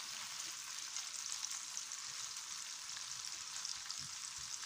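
Scampi and prawns sizzle in a frying pan, a steady, even hiss of hot oil running unbroken throughout, fairly soft and close, with no voices.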